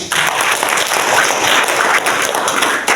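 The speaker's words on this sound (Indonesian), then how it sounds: "Tepuk tangan sekali lagi." A church congregation at a Sunday service bursts into applause, a dense, loud wash of many hands clapping continuously and close by, with no voices over it.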